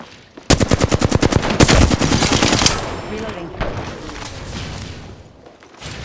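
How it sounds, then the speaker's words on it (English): Sustained automatic gunfire from a video game firefight rattles in a rapid, loud burst for about two seconds, followed by scattered shots and fainter echoes, with game voices calling out in the background. "Opening fire."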